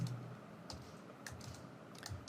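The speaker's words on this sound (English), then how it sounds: "So I'm typing the message as hello team." Keys on a computer keyboard being typed as a short message is entered, faint scattered clicks and taps at close range with a soft background hiss and no voices.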